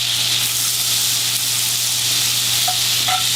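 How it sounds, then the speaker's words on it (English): Half a stick of butter sizzles and fizzes steadily in a pan while melting for a mac and cheese sauce, a close, even frying hiss with a couple of brief sharper crackles near the end. "I'm going to use a half a stick of butter."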